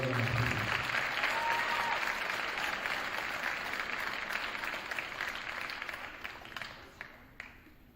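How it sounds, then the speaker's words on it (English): Audience applause for Coaches Award winners at a high school winter sports awards ceremony, a dense, steady burst of many hands clapping that tapers gradually over about eight seconds. "Another round of applause for our Coaches Award winners."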